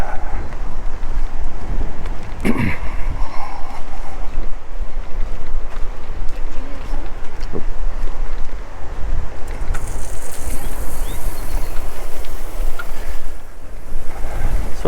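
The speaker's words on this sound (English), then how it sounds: "hopefully this wind is not too bad" Strong wind buffeting the microphone on a beach at Isla Blanca Park, with surf rumbling underneath: a loud, steady roar that gusts throughout and never lets up, and no voice.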